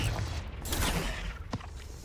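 A Confringo spell cast in the game Hogwarts Legacy, a bursting whoosh and crackle with a sharp impact crack near the end, loud and close.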